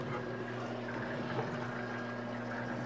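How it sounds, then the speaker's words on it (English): An aquarium sump sits below the tank, filtering water with a steady, even rush and trickle and a faint low hum running beneath it the whole time. "That's my sump down below the tank, which cleans my tank very well."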